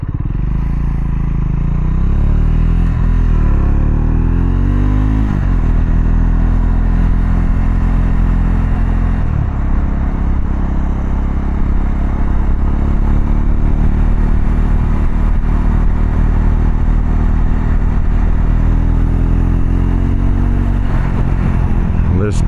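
A steady Triumph Scrambler 400X motorcycle engine drones at constant highway speed in sixth gear for the whole stretch, loud and close, with a low rumbling hum and slight shifts in pitch.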